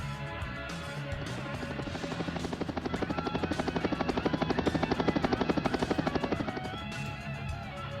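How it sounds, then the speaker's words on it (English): A helicopter sound effect from a Mega Construx Call of Duty Special Ops Copter toy plays steadily, its rotor chop pulsing rhythmically and growing louder toward the middle before easing off, close and continuous with no talking. "The chopper has landed."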